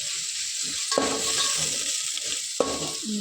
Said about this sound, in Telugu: వేసి వేగనివ్వాలి